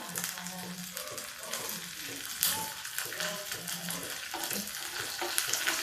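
Red chillies, curry leaves and urad dal crackle and sizzle in hot oil during a tempering for South Indian coconut chutney, a steady close frying hiss with occasional stirring and no talk.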